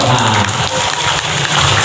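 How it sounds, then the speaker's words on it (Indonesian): An audience at an iftar gathering in the Al Huda mosque, Air Batu, claps loudly and densely, a brief burst of applause layered over a steady low droning hum. "Tepuk tangan Bapak Ibu dong"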